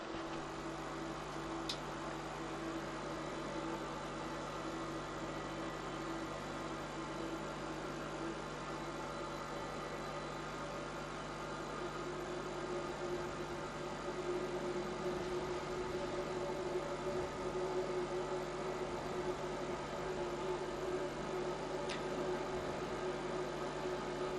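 Jet engines of a full-size Boeing 737 flight simulator droning at a steady, loud, even roar for takeoff from Kai Tak, with no voices heard.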